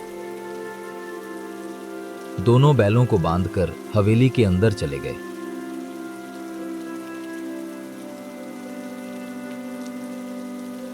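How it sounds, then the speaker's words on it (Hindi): Steady rain hisses throughout, with a voice speaking briefly over it near the start. "बारिश रुकने का नाम नहीं ले रही।"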